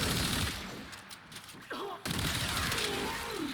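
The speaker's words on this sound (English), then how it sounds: "you can press the Alt Fire button to empty the entire magazine in one shot, like this" A Tenet Detron shotgun in the Warframe video game fires its whole magazine in one shot, giving a dense burst of blasts at the start and another near the middle, with mechanical and whooshing game effects around them.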